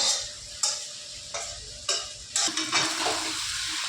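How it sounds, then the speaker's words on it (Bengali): Fried cauliflower stirred into a rohu fish curry with potatoes in a pan, giving a steady close sizzle punctuated by repeated scraping stirs and occasional clinks of a spoon against the pan. "মামনি ভেজে নেওয়া ফুলকপিগুলো আমাদের ঝোলের মধ্যে অ্যাড করে নিচ্ছে"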